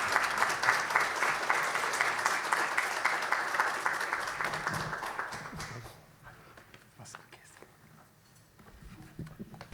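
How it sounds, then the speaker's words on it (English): An audience at a business federation conference applauds to welcome the chairman onto the stage: dense, steady clapping for about six seconds that then thins out and fades. "please do welcome Chairman Tokura with applause"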